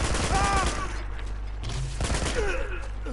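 Rapid gunfire in Uncharted: The Nathan Drake Collection, a dense burst of overlapping shots and ricochet-like whistles, loud and continuous across the moment with faint voices mixed in.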